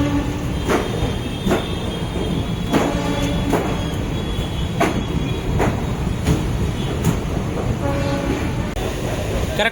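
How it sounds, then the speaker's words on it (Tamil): A passenger express train pulls out of Chennai Egmore station with a continuous loud rumble, rhythmic wheel clicks and brief squeals heard from on board. "கரெக்டாக பார்த்தீங்கன்னா 7:15 சென்னை எக்மோர்லேருந்து நம்ம வண்டி கிளம்பிடுச்சுங்க"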